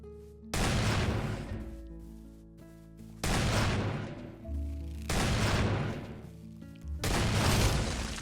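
Four heavy hand cannon shots from the Techguns mod in Minecraft, each a loud booming blast with a long ringing tail, spaced roughly two seconds apart over a low background hum.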